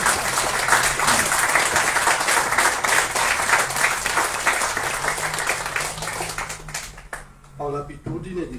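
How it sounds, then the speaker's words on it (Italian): Audience applause at a poetry reading during an aperitivo event in Mogliano Veneto, sustained dense clapping for about seven seconds that stops abruptly, followed by a speaker's voice. "Ci starebbe un applauso a questo punto"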